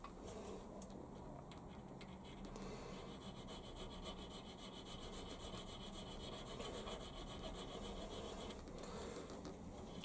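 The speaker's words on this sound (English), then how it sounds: "basically filing them into the thickness that I want by draw filing top and bottom" A metal watch hand removal lever is draw filed by hand, giving faint, continuous rhythmic rasping strokes close to the microphone.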